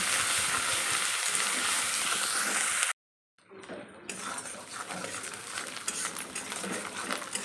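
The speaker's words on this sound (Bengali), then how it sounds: "আর অল্প হলুদ দিয়ে এবার মশলাটাকে ভালো করে কষিয়ে নেব" Masala spice paste with turmeric and salt fries in a pan for a prawn malai curry, a bright, steady sizzle that cuts out for about a second, then resumes with stirring clatter.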